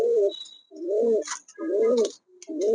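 Several pigeons kept for breeding coo in repeated rounded phrases, close and fairly loud, with short pauses between bursts and a few faint higher chirps in the background.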